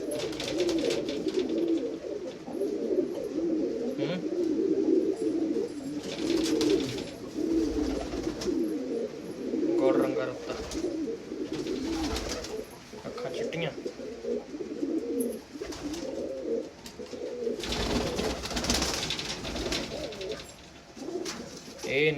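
Famous Jarnail Kanewale pigeons, blue and spotted, coo in repeated soft throaty rolls nearby, with a voice talking at times over the birds.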